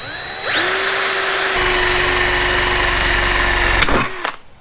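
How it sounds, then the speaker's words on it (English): A power drill bores a bolt hole while a gas tank is fitted to a Suzuki TS185 motorcycle, spinning up, running steadily under load for about three seconds, then winding down and stopping. Loud and close, no talking. "Now I just have to drill a hole right there."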